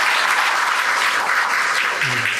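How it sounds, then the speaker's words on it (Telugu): Loud, dense clapping that continues without a break for a couple of seconds, close and steady, with no voices over it. "ఆయన గట్టిగా చప్పట్లు కొట్టి అభినందనలు తెలియజేస్తారు"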